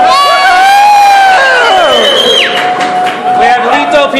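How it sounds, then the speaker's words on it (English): A crowd at a sake-tasting event cheers, whoops and shouts loudly for a sake donor, with excited voices rising and falling throughout; clapping is hard to pick out under the cheering. "he needs the big applause"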